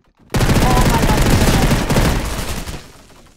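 A grenade explodes in the Roblox shooter King of the Hill with a sudden loud blast, followed by a dense roaring rumble that sustains for about three seconds before tapering off.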